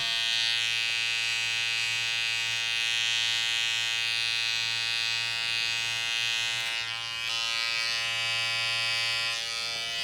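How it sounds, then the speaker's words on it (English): Electric hair clippers buzz steadily as they cut short men's hair over a comb, a close, continuous motor hum with slight dips in pitch where the blades meet hair, and no talking. "A bit of clipper over comb."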